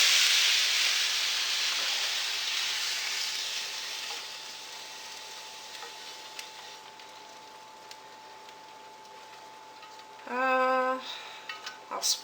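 Food sizzling in a heavy frying pan, a bright frying hiss that slowly fades, followed by a short tonal scrape and a few clinks near the end.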